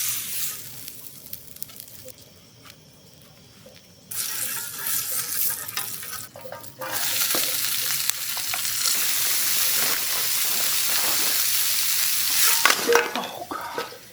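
Steak frying in a pan at a winter cave campsite, a steady loud sizzle that starts partway through and continues close up, with some scraping and clatter mixed in.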